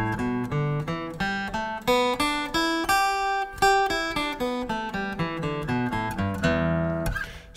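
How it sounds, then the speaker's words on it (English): On an acoustic guitar, an E pentatonic scale climbs and descends note by note at an even, moderate pace, each plucked string ringing clearly and close with no talking over it. "So the first thing what you have to learn is the E pentatonic scale."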